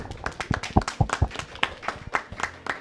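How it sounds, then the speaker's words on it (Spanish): Scattered clapping from a small audience at a parents' school session, a few distinct, uneven hand claps close by rather than a full round of applause, mixed with light tapping and murmur. "Un aplauso, por favor"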